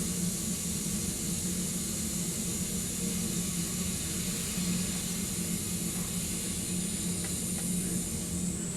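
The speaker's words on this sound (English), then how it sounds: "you see the cool oblique shock waves forming coming out of the nozzle" High-pressure gas rushes through a converging-diverging nozzle, producing a loud, steady broadband hiss that holds constant without a break.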